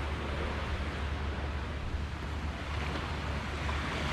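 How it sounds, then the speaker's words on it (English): Ocean surf at Thulusdhoo's northeast beach in the Maldives rolls in a steady, dense wash, with wind buffeting the microphone throughout and no voices. "थुलुस्धू north east beach"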